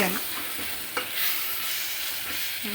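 Ginger paste fries in hot oil with a soft, continuous sizzle, broken by a few scraping stirs of a spoon against the pan.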